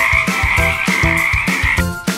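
Frogs croak in a loud, rhythmic series of raspy calls close by, repeating roughly every quarter second over a sustained trilling chorus, with no voices.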